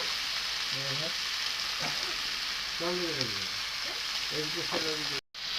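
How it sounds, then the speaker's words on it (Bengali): Tomato frying with salt and spices in a pan while cooking a cabbage and potato dish, giving a steady close sizzle with soft stirring scrapes and a few faint murmured words, cut short by a brief dropout at the end. "আমি টমাটারটা দিয়ে নেবো এটাকে আমি ভাজে নেবো"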